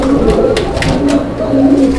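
A male Rajgolla fancy pigeon coos up close, a low, throaty, rolling call repeated with brief pauses and heard clearly on its own.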